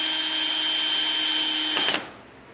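A power drill runs loudly and steadily, driving screws into a wooden column being fluted with a router, then stops abruptly near the end, leaving quiet room tone.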